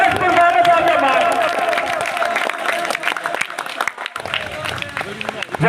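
An audience at a school award ceremony applauding a vice principal and professor: dense, sustained clapping and crowd noise close by, with a voice speaking over it throughout.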